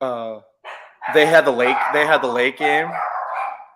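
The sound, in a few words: dogs barking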